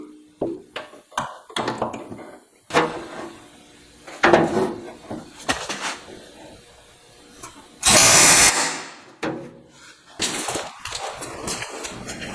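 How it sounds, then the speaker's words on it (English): An air chisel fitted with a custom-made bit sets metal rivets against a steel backing dolly. It gives sharp, irregular metallic bursts and taps, with one long, loud rattling burst partway through. "I'm just using this air chisel that has a special bit that I made for the end of it that contours to the head of the rivet"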